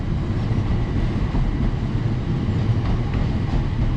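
A Class 378 electric train passes Bushey station, a steady loud rumble and roar of wheels on rails lasting throughout, close by with no voices.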